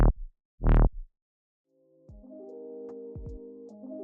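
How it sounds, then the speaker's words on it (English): Synth bass line built from a single sample, with an automated auto filter sweeping up and down for a wobble; a few short bursts lead into a sustained, gently shifting low tone. "I made the filter sort of rise up and down to create the wobble effect"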